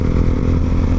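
A motorcycle engine drones loud and steady while riding on a dark, cold early morning, a close, continuous rumble with no pauses.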